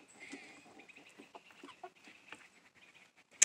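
Chickens on a porch, with a rooster among the flock, give off soft scattered clucks and murmurs close by, broken by one sharp short sound near the end.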